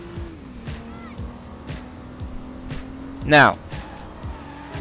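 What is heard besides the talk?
car drifting with handbrake in the video game Driver: San Francisco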